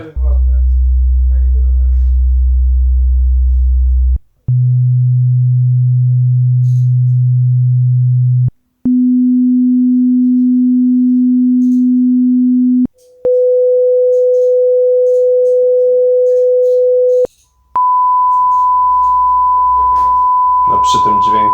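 Pure sine test tones for checking hearing with motorcycle earplugs step upward in five long, steady, loud notes from lowest to highest pitch, each held about four seconds with brief gaps between.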